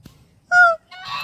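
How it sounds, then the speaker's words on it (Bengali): A goose in a city park zoo honks twice: one loud, clear nasal honk followed after a short gap by a rougher, rising second call, close by with no talking. "ওই তো এটা একটা হাঁস, রাজহাঁস মনে হয়"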